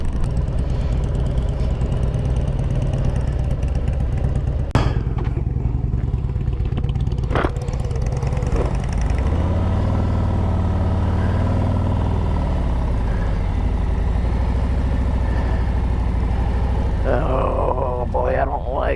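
A motorcycle rumbles steadily while riding off-road over gravel on a road trip near Twin Falls, with engine drone and clatter under intermittent talk from the rider.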